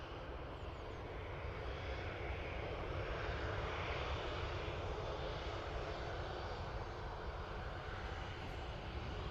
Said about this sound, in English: So Aer Lingus off to London, make it an intercept.